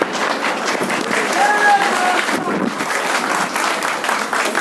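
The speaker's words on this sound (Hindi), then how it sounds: "साहब के लिए जोरदार तालियों को।" Crowd at an April 14 Jayanti program in Mumbai giving a speaker loud applause, a continuous dense clapping texture with some voices mixed in.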